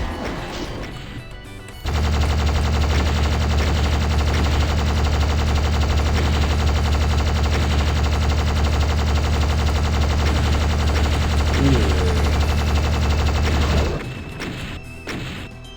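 Doom video game gunfire: sustained, rapid automatic shooting forms a loud, dense, continuous roar that lasts about twelve seconds. Quieter game sounds come before and after it.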